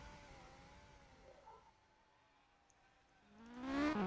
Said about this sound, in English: I could hear the safety cars coming out.